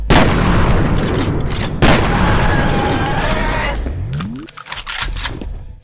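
Shotgun blasts from the FEAR video game ring out loud and close, two heavy booms a second apart amid dense gunfire and rumbling game noise, followed by a rising whine and scattered sharp clatters.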